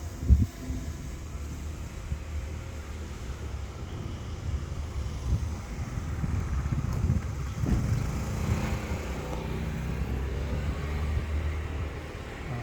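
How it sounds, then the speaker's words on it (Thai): Strong, hot wind buffets the microphone outdoors during a DJI Mini 2 drone test flight, a continuous rough rumbling roar with a single thump at the start and no voices. "ลมแรงนะครับวันนี้ลมลมร้อนนะครับ"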